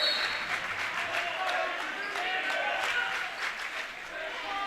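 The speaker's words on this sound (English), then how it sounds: "a nice hand from this Woodshed crowd" Basketball crowd in the Woodshed gym applauding the seniors, a steady wash of clapping and cheering from many hands with no pause, filling the hall at moderate loudness.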